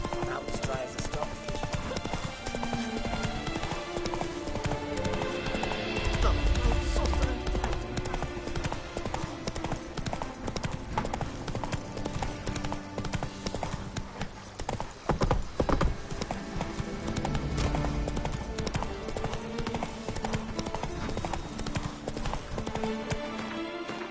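A horse gallops in The Witcher 3 with fast, steady hoofbeats that drum on for the whole stretch, now and then joined by a whinny, while voices talk over it.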